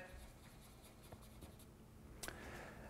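A pen scratches and taps on paper while marking dots for a hand-drawn map of Estonia, soft irregular strokes close by with one sharper tap near the end, quiet and without voices.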